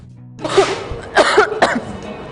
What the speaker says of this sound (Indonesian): Dari tadi aku nggak berhenti batuk